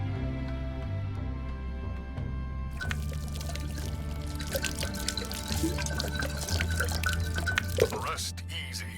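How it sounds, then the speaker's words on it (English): Liquor poured out in The Dungeon Experience, a VR game: a steady splashing pour with drips over a low droning music bed, fairly close and even in level. "pay tribute by pouring some liquor for my homies"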